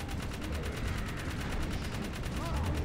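Turret gunfire in the video game Jak 3 hammers on without a break, a dense stream of rapid shots that fills the clip under a steady low rumble.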